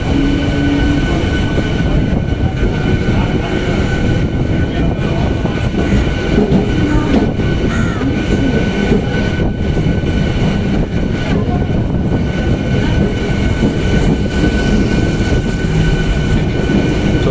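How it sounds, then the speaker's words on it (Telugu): A train at Kanyakumari railway station, with a loud, continuous rumble of rolling wheels and carriages close by, steady for the whole stretch, with faint rattling on top. "ఇండియా లోపలనే చిట్ట చివరి రైల్వే స్టేషన్ ఇది కన్యాకుమారి ఇటువైపు కూడా ఉంది ట్రైన్"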